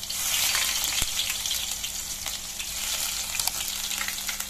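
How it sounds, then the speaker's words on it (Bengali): Ginger and garlic sizzle in hot oil with a steady, loud hiss and a few sharp spatters, no one talking. "তেলটি গরম হলে এর মধ্যে আমি আদা রসুন দিয়ে দিলাম একসাথে।"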